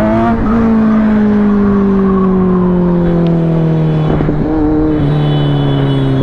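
A Kawasaki Z900 motorcycle sweeps past at high speed, its loud, close engine whine holding steady and then dropping in pitch as it goes by, with no talk over it.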